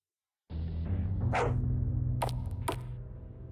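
Dog barking inside the video game Blackout Hospital, a few loud close barks and yips set over a steady low game drone, with sharp clatter-like hits toward the end.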